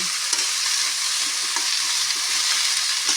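Jackfruit simmering in coconut milk with shrimp sizzles loudly in a pan while being stirred, a bright steady hiss punctuated by soft, regular utensil knocks.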